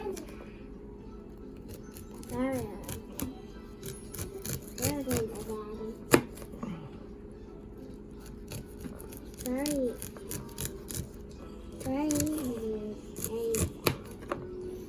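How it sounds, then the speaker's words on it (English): Knife slicing sweet corn kernels off the cob over a nearly full pan, making repeated short scraping cuts in bursts, with someone talking over most of it. "you can get in there and make a nice cut, do it again"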